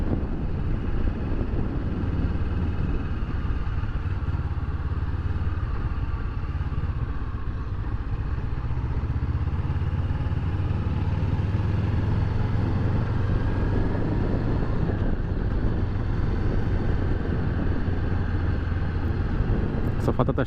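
A 2018 Honda CB500X motorcycle cruising on asphalt during a test ride, its engine holding a steady low drone throughout with a continuous rush of wind and road noise.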